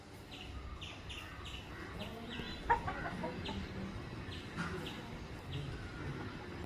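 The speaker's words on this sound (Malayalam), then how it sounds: "കോഴികളുണ്ട് കുറേ." Several chickens cluck and chatter softly in an outdoor yard, their short calls recurring irregularly at a moderate distance over quiet background noise, with one sharper squawk.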